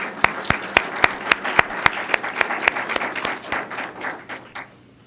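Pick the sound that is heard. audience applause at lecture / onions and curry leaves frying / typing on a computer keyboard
audience applause at lecture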